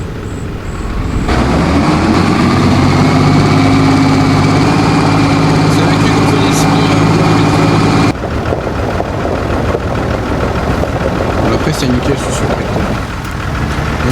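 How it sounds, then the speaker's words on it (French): A combine harvester engine warms up and idles during a wheat harvest: a loud, steady low drone with a humming tone. It drops slightly in level partway through, then settles into a rougher idle. "on va attendre que le moteur il chauffe un peu."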